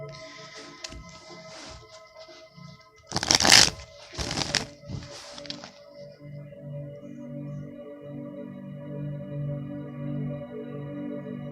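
Tarot cards being shuffled by hand, a few brisk riffling bursts clustered in the middle, moderately loud against a quiet room with a low steady hum and no talk.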